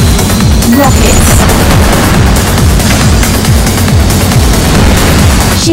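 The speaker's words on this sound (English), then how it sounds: "Rockets." Rockets firing and exploding during a Wipeout HD anti-gravity race on the Metropia track, heard as a loud, dense run of repeated booms and blasts over constant engine roar and music.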